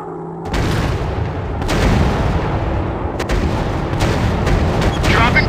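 Bombs dropping and exploding in a WW2 warplane combat video game, heavy rumbling booms and gunfire-like blasts rolling continuously over a loud engine drone, with a few sharper cracks.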